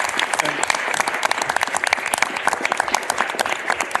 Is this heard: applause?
yes